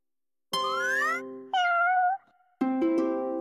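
Three separate cartoonish cat meows in a children's learning game, bright, synthetic and tonal, each about half a second to a second long with short gaps, clean and close.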